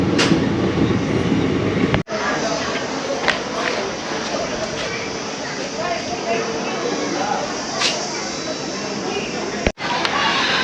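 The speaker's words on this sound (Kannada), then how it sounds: "ಗಾರ್ಡ್ ಸಿಗ್ನಲ್ ಕೊಟ್ಟಾಯಿತು, ಗಾಡಿ ಮಾರ್ಚ್ ಆಗಾಯಿತು." A goods train at Maddur railway station, carrying steel material, pulls away after the guard's signal, making a loud, steady rolling rumble with clattering wheels close by and brief sharp breaks in the noise.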